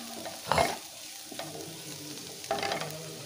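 Potatoes and onions stirred and fried in a pan: a steady low sizzle broken by three scraping stirring strokes, the loudest early on, with no talking.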